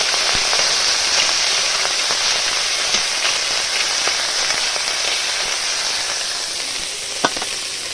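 Small khoira fish coated in salt and turmeric fry in hot oil, giving a steady, dense sizzle with occasional sharp pops, loud and close, with no talking.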